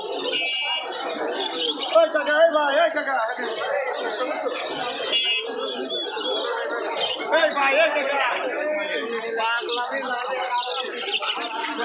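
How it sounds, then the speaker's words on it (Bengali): Dense chatter and chirping of many caged birds at the Mirpur-1 bird market, a continuous busy chorus of overlapping calls at steady loudness, with human chuckles or voices mixed faintly in. "এই হাটে সব ধরনের পাখি পাবেন"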